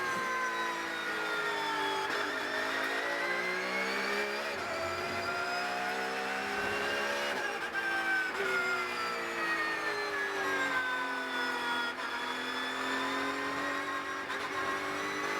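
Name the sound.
Porsche Cup race car onboard at Hockenheimring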